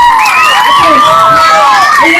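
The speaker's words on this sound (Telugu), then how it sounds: "చప్పట్లు కొట్టండి ఆయన గట్టిగా." A crowd at an outdoor political rally in Adoni cheers and shouts loudly and continuously, with overlapping high voices and whoops filling the whole stretch.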